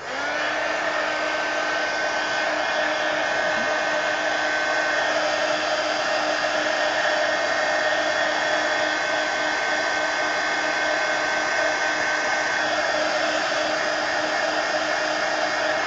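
A hair dryer blows steadily and loudly at close range for the whole stretch, drying white paint in an art journal, with a constant whine and no pauses.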